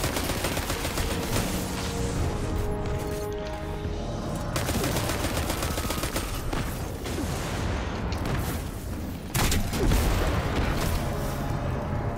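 Sustained gunfire from the video game Destiny 2, with dense bursts of shots and impacts running through the whole stretch, loud and close, with no talking.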